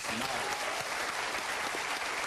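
A studio audience on a TV quiz show claps in a steady, fairly loud round of applause, brief and continuous, with a faint voice underneath.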